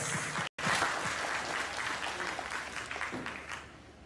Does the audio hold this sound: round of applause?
yes